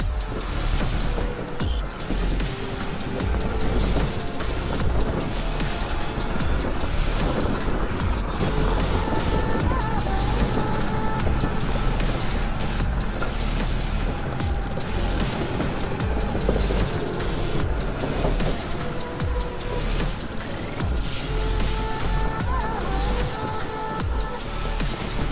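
A go-kart rips around a loop on an abandoned track with a loud, continuous rough engine roar and rattling over uneven ground, running close and steady for the whole stretch.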